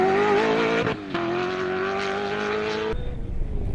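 A BMW race car at the Koster 200 circuit race roars past with a loud, sustained engine howl, shifting gear twice and climbing in pitch between shifts, with no voices.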